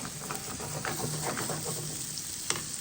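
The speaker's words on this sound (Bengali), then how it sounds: "এইটা জাস্ট একটু কষাই নেব" Spice paste for a Bangladeshi khaira fish curry sizzles and fries in a pan, a steady close crackle with light scraping stirs and one sharp clink near the end.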